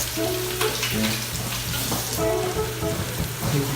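Bolognese sauce ingredients sizzle and crackle steadily in a hot frying pan, close up, with a constant hiss and occasional stirring sounds and a low hum underneath.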